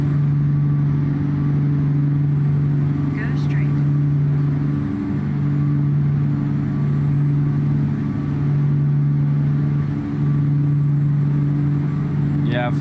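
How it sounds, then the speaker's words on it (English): Truck engine in the video game American Truck Simulator, a loud, steady low diesel drone and rumble that holds almost unchanged, with brief faint chirps above it. "So you can just take a minute and listen to this truck if you want."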